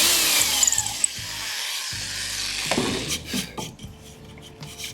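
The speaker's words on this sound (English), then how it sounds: "Right, we'll re-drill that hole." A power drill grinds into wood, re-drilling a hole, strongest at first, then tapering into scattered clicks and knocks as it slows.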